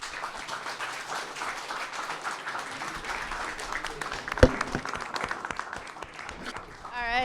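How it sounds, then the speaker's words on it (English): Applause for the finalists at a Startup Yale competition, a crowd clapping steadily with a loud, sharp clap standing out partway through and voices mixed in underneath. "One more big round of applause for all of our finalists."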